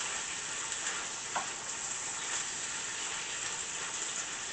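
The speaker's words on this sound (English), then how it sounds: "As you can hear, there's a nice sizzle coming from where the peppers are." Peppers and chicken sizzling steadily in a hot pan, a constant close-up hiss of frying with a faint clink partway through and no voices.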